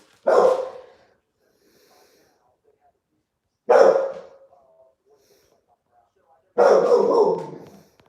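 Three loud, single dog barks, close by, spaced a few seconds apart with silence between them.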